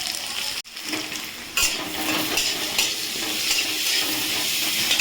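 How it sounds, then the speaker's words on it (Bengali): Jackfruit seeds frying with onion and potato in a pan, a close continuous sizzle with stirring scrapes and a brief utensil clatter near the start, no speech. "এবারে কাঁঠালের দানাটা এই পেঁয়াজ আলুর সঙ্গে একটু ভাজা ভাজা করে নিচ্ছি"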